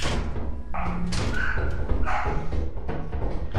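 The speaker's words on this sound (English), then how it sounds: "Oh, the dog barking." Dog barking in the video game Lethal Company, a run of loud, close barks and yips mixed with thumps and muffled background sounds, dense and continuous.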